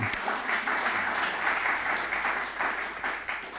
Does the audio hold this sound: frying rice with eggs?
no